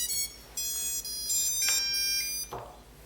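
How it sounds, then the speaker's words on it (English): Motors on a Bugs 3 quadcopter rebuilt into a Bugs 6 shell with 10A ESCs give short high-pitched tonal whines in several bursts, one motor slightly out of tone with the others, close and fairly loud. "you can hear that the different ESC, it's slightly out of tone with the others"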